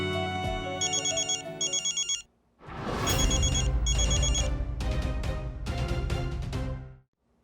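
A phone ringtone plays in repeated electronic bursts, stops briefly, then resumes louder and fuller for several more seconds before cutting off.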